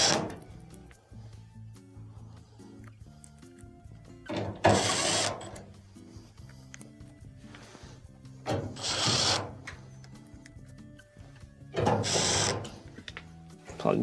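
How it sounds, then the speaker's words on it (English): Screws are driven back into an LG dryer during an idler pulley repair, three bursts of whirring power-driver noise spaced a few seconds apart, with quieter clicking and handling sounds between them. "Let's go ahead and reinstall our screws."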